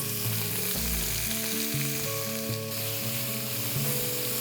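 Sliced onions and curry leaves fry in spiced oil, a steady, dense sizzle running throughout over a layered tonal hum, with no voices.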